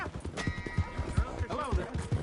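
Horse hooves clip-clop in a quick, steady rhythm in a Red Dead Redemption 2 game scene, joined by a short whinny, at moderate volume under light background sound.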